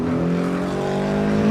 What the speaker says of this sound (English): this car has that sort of that low grumble sound compared to a Subaru Impreza, instead of the signature Porsche sound